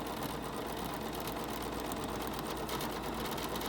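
A sewing machine stitches paper-pieced quilt fabric at a steady, even whirring rhythm, close and continuous for the whole stretch.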